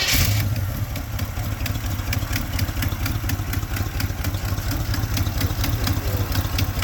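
A 1986 GMC Sierra C10 pickup's engine runs steadily at idle after five years off the road, a continuous low rumble with a fine ticking rhythm, close and loud with no voices.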